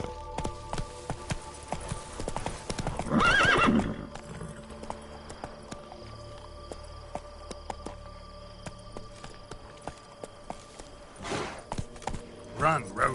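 Hooves of Roach, a horse in The Witcher video game, clip-clopping in bursts with a brief whinny, loud near the start and recurring later under occasional game sounds.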